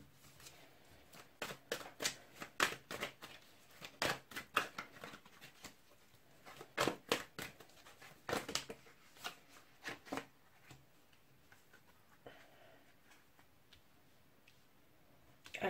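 Tarot cards are shuffled by hand in quiet, close, rapid riffling bursts, a crisp papery flutter with short pauses between rounds.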